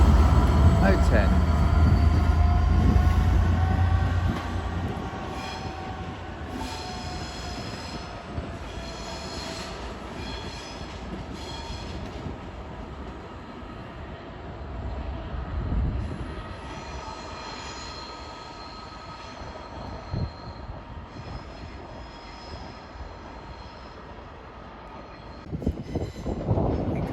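Train passing through Crewe station on the West Coast Main Line, a loud rumble up front easing into a steady roll with faint wheel squeal, while a station announcement plays over it.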